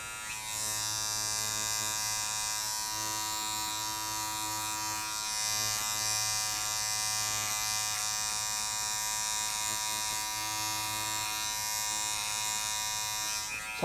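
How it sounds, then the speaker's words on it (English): Electric beard clipper fitted with a guard, buzzing steadily and loudly up close for the whole stretch as it trims facial hair, with only slight shifts in pitch as it moves. "when you're using the clipper and the guard"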